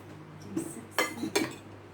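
A spoon clinks against dishes during a seafood meal with a spicy dipping sauce, three sharp, close clinks spaced a fraction of a second apart over a quiet background.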